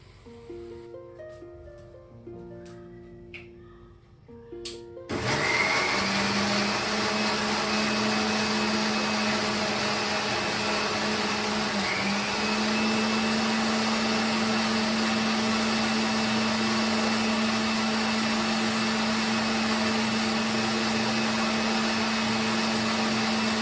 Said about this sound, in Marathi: धणे जिरे पूड हे मिश्रण आपण वाटून घेऊ